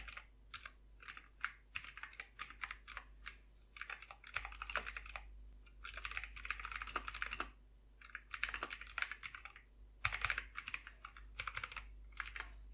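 Typing C# code on a computer keyboard produces bursts of crisp, rapid key clicks with short pauses between words, close and fairly quiet in an otherwise still room.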